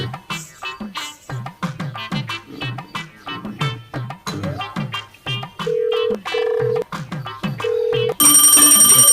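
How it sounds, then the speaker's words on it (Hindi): A mobile phone rings loudly and close in an indoor comedy scene, first as repeated beeping tones over someone talking, then as a full bright ringtone at the end. "फिर मोबाइल बाजा थे"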